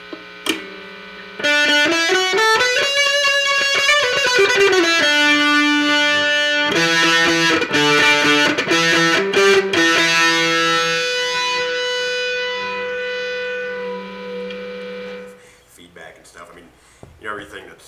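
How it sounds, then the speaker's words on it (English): A distorted electric mandolin, played on the neck pickup, plays bright, sustained notes and quick runs, loud and close, then rings out and fades near the end. "Let's hear some distortion on the neck."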